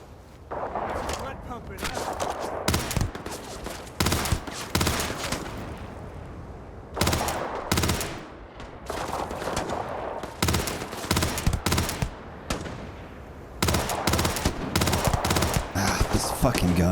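Bursts of automatic gunfire from a gun in the video game Starfield, rattling loud and close in rapid volleys separated by short pauses, with a voice speaking over parts of it.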